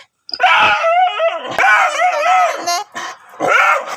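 A puppy barks and yips in rapid high-pitched bursts, some drawn out into whining cries, close by and loud with short gaps between volleys.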